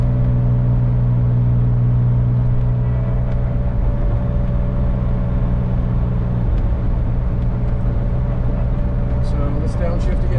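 A vintage Porsche 911 drives along, its engine a steady, loud drone heard from inside the car. The pitch shifts slightly as the driver downshifts, and brief higher ticks come near the end.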